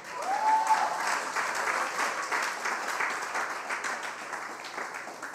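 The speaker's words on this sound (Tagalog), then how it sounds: "Sige, pwede kayong pumalakpak." Congregation applause at a church service fills the space steadily, a dense wash of many hands clapping with no pause, fairly loud and close throughout, with no voices over it.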